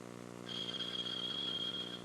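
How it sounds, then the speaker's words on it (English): A bandsaw cuts out a small wooden cradle piece with a steady low motor drone and a thin high blade whine while the wood is fed through, heard close with no talk. "the operation of cutting out this piece is much easier to do with the bandsaw"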